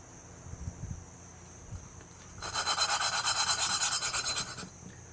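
An engine valve on a Briggs & Stratton 21 HP Intek engine is lapped with a suction-cup tool, making a rhythmic, close back-and-forth gritty rasp like sandpaper for a few seconds after faint handling.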